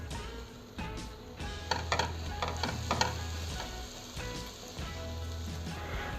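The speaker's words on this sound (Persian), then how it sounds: "یه دونه پیاز رنده شده میریزم، تفتش میدم در حدی که سبک بشه." Grated onion sizzles in about four spoonfuls of oil in a pan as fesenjan with chicken is started. A steady, close frying hiss runs throughout, broken by a few scraping stirs.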